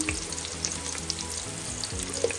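Garlic and onion sizzle steadily in a hot pan, a close, continuous frying crackle with no voices over it.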